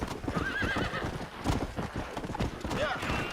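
Horse hooves clip-clop in a quick rhythm while whinnies rise over them, a horse from the video game Red Dead Redemption on Xbox 360, with a voice speaking under the sounds.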